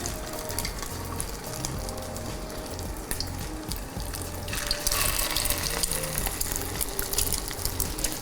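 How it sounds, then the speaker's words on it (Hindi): Egg-coated chicken tikka cutlets fry in a pan with a steady, close sizzle that grows louder and brighter partway through, with a faint watery hiss underneath and no voices. "आप फिर बस निकालें और अंडे से कोट करें और फ्राई कर लें।"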